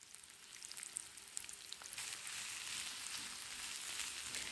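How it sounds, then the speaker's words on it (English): Onions fry in oil in a pan over medium heat, giving a soft, close sizzle with light crackling pops that grows steadier and fuller after a couple of seconds. "Once you've put your onions in and they've started to fry"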